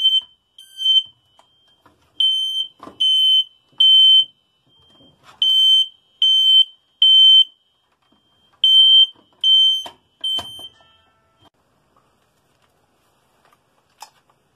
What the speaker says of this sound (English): Always the smoke alarm goes off.